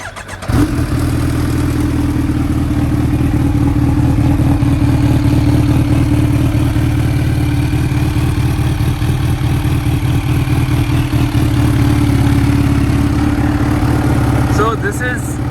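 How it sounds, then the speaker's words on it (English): A Kawasaki H2 Carbon motorcycle starts up, and its engine settles into a loud, steady, close-up idle with a deep, even exhaust burble that runs unbroken for about fifteen seconds. "Let's turn on the bike and listen to the exhaust note"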